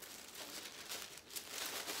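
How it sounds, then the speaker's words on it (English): Tissue paper being crumpled into the bottom of a gift basket, a soft continuous crinkling rustle, close and fairly quiet, with no talk. "crumple up some tissue paper down at the bottom."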